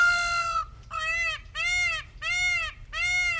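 A showy, beautiful bird gives harsh, nasal, raucous calls close by, five strained honks in a fairly even rhythm with short gaps, over a low steady background hum.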